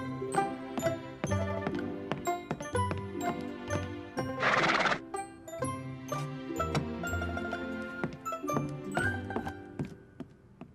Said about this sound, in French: Tu vois, Ginger, c'est pas tout le monde qui fête l'anniversaire à son cheval